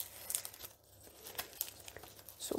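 A dry nori seaweed sheet is torn by hand, giving faint, close crinkling and crisp tearing crackles in several short bursts.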